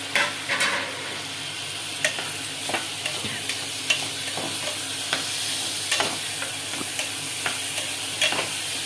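Tomatoes frying in a pan with soaked chickpeas, a steady sizzle close by, with repeated scraping and clinking from the stirring spoon at irregular intervals and no talking.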